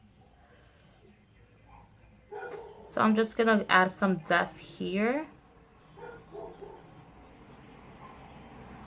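Several dogs in the neighborhood bark in a quick run of about six sharp, fairly close barks, with someone speaking quietly before and after.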